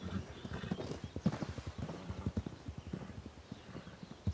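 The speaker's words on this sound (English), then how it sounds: "Is this one of the horses?" Horse hooves clip-clopping on a farm, a steady run of soft, close knocks at walking pace, fairly quiet, with a faint whinny-like sound underneath.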